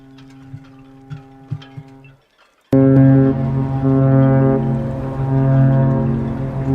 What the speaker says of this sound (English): Sound like some quality honking there from Arcadia.